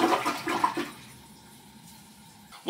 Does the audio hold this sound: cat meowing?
no